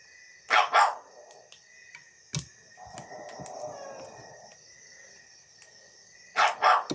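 A dog barks nearby in short bursts: a double bark, a lone sharp yip, then another pair of loud barks after a pause, with crickets chirping faintly throughout.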